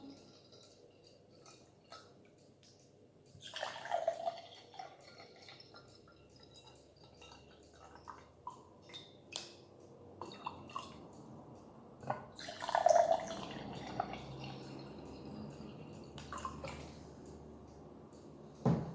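Water poured into drinking glasses, a few separate bursts of pouring and trickling with drips, fairly faint and close, separated by quiet gaps.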